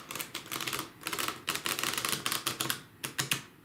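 A deck of playing cards being shuffled during a quiet meditation, giving a close, crisp run of rapid papery riffles and flutters in several bursts, with no voices.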